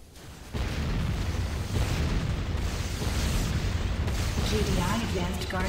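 A GDI Advanced Guard Tower blows up in the video game Renegade, a loud rumbling burst that holds as a sustained roar of debris and low booms for several seconds, with battle noise continuing underneath.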